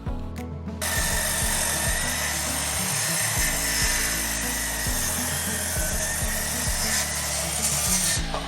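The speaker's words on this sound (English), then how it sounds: "Ripping these thick boards with the Sasquatch skill saw, 10 1/4 inch," A Sasquatch 10 1/4 inch circular saw rips through thick boards, a loud, steady, close cutting roar that runs with no break after a brief start, with a low motor drone beneath.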